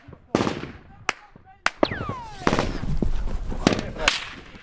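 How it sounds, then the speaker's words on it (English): Sharp gunshots crack out one at a time at irregular intervals as Estonian soldiers trade fire with Taliban fighters up a road, loud and close, with an incoming round whizzing past. "Taliban fighters appear further up the road and begin to fire at us"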